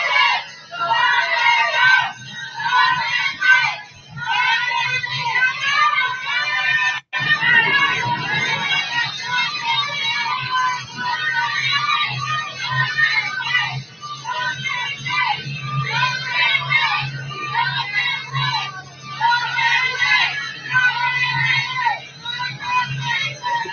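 A large crowd shouts and screams continuously, chanting "BBM" at a presidential helicopter in Davao, with many voices rising and falling in a sustained, dense roar.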